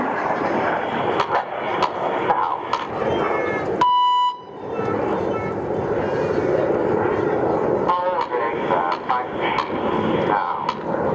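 Red Arrows jets flying a seven-ship formation at the East Fortune Airshow 2014 make a distant, sustained roar beneath loudspeaker commentary. A short electronic beep sounds midway.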